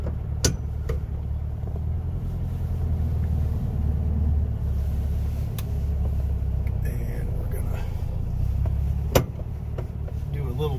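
A 1964 Volkswagen, sea blue with 64,000 original miles, idles just after starting, its engine giving a steady low rumble with a few faint clicks over the top.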